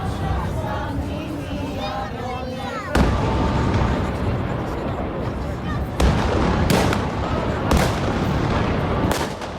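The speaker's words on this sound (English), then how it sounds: "The earth-shattering explosions are from dynamite stations set up in the surrounding hills." Huge, deep dynamite explosions boom one after another from the surrounding hills during Orthodox Easter on Symi, Greece, each sharp blast rolling out over a crowded, noisy background.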